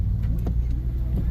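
A big truck rolls past close by with a loud, heavy low rumble that holds steady through the brief moment, and the engine noise fills the whole clip.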